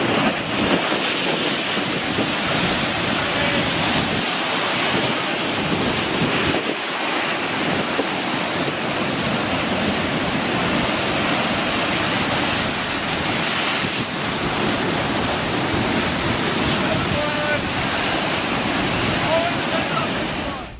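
Rough swell surging against rocks off Santa Cruz, with a dangerous sea churning steadily. It sounds as a continuous loud roar of broken water and wind buffeting the microphone, with no distinct pauses.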